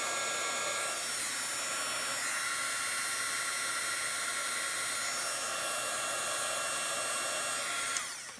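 A heat tool melts embossing powder on a vellum card panel, blowing a steady, loud whooshing roar throughout, close and continuous, cutting off at the end.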